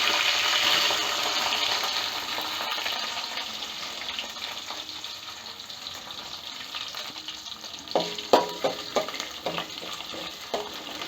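Chopped onions and curry leaves frying in hot oil with popping mustard seeds for a dal curry, a loud continuous sizzle that eases off, then a run of scraping stirs near the end.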